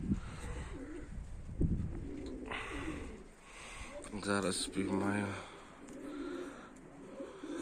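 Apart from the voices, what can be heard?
pigeons cooing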